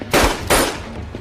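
Two sharp, loud bangs in quick succession, each with a short decaying tail, like gunshots fired close by.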